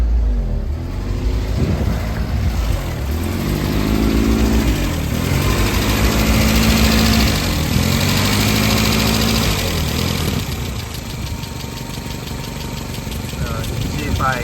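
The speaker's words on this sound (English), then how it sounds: "here's an example of my idle air control valve not closing all the way. You can see the idle's hunting." A warm 1988 Isuzu Trooper engine with a faulty idle air control valve that won't close fully idles close by. Its revs hunt up and down in slow surges, and someone talks over the uneven rumble.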